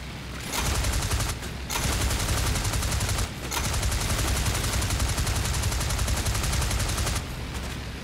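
Sustained machine-gun fire in the Flying Circus multiplayer air combat game during an artillery attack sortie, a dense continuous rattle of rapid shots broken by a few brief pauses, loud and close with no talking.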